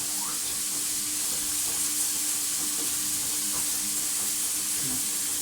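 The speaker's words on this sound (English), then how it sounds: "I'm going to put the tomatoes in there now" Tomatoes sizzle and fry with softened, lightly colored onions in a pan for plant-based Mexican beans, a steady close hiss with occasional stirring clicks and no talk.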